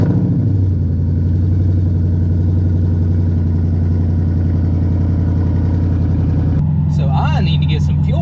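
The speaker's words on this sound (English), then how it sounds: "Cold start up." Ford Mustang with a Coyote V8 and its sound tube removed rumbles loud and close at cold-start idle, dipping in pitch early on before holding a steady throb, with brief talking near the end.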